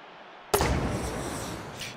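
Rockets fire in the video game Wasteland 3, where a sudden loud blast is followed by a sustained rushing roar and a fainter second burst near the end.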